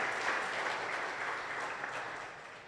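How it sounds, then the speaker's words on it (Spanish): A church congregation applauds in a sustained, even wash of clapping, dense and steady, fading slightly at the end. "Dame un aplauso a quien vive."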